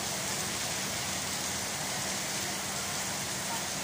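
Heavy rain pours in a dense, unbroken hiss that stays loud and even throughout, with no voices over it.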